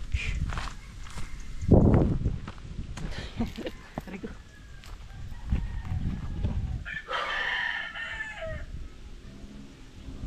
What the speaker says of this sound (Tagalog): may mga alaga rin manok dito